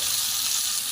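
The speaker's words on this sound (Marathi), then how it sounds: "छान असं हे परतून घ्यायचे" Cooked chana dal sautés with green chilli and garlic in a pan, giving a steady, bright close-up sizzle with no break in its brief run.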